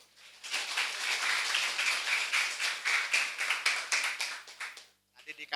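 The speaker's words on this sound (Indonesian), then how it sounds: "Tepuk tangan dulu, tepuk tangan dulu." An audience at a school orientation session claps together in a dense burst of applause lasting about four seconds, then it cuts off sharply, followed by a few scattered claps.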